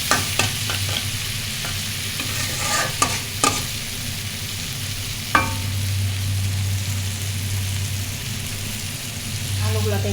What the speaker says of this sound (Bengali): আর একটু ভাজা মশলাটা যত একটু কষা করা যাবে তখন, তাহলে ভালো লাগবে